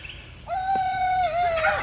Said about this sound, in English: he's over here just crowing his little lungs out